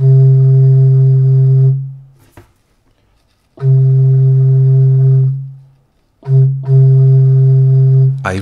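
A wooden lieblich gedackt stopped organ pipe sounds three long, steady hollow tones with strong odd harmonics, each held for a couple of seconds and separated by short breathy gaps and quiet rustles, recorded close in a quiet room.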